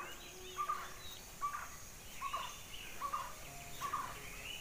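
Near a village house, birds call faintly and somewhat far off with a series of short, repeated, evenly spaced calls over quiet outdoor background.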